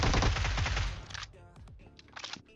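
A suppressed UMP submachine gun in PUBG fires a rapid, close burst lasting about a second, followed by a quieter, shorter burst a moment later.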